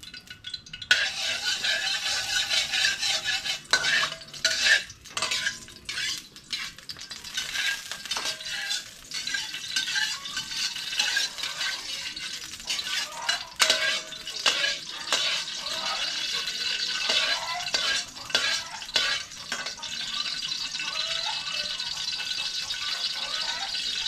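Oil heating in a pan with garlic: a continuous bright sizzle with frequent clatters and scrapes of a utensil against the pan, close by and steady for a long stretch, with faint voices now and then.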